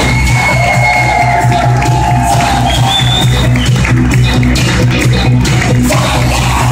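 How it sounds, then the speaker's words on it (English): Wedding guests applaud and cheer loudly and continuously as a bridesmaid and groomsman are introduced. Whoops and shouts rise over the dense clapping, with a steady background beat beneath the crowd. "a big round of applause for bridesmaid Alicia Marpoli with groomsman Mr. Brian Jackson"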